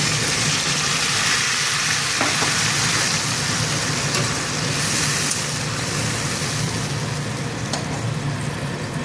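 Fried potatoes sizzle loudly and steadily in hot oil in a close pan as spices like turmeric and salt are added, with occasional stirring clicks and no talking.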